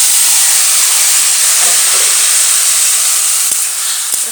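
Water lily stems hitting hot oil with chillies and turmeric in a pan, a loud, steady, hissing sizzle right up close, with a couple of faint utensil clicks near the end.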